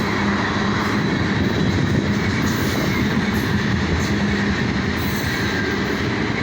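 A loaded southbound BNSF coal train rolls past nearby, its wagons rumbling and clattering steadily with faint wheel squeal throughout, no voices.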